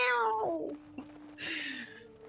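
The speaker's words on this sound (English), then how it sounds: "Man, I didn't know there were so many cats in the forest." Cats meow in a fantasy role-playing game, Dragon Age, with two or three drawn-out, wavering calls in close succession, clear and up front against a quiet background.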